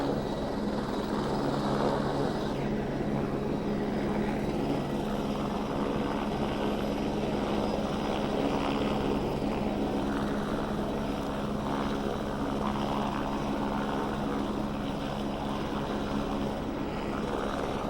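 A helicopter lifting off from a casino parking garage rooftop near Niagara Falls, a steady loud rotor and engine roar that holds for the whole stretch with no voices.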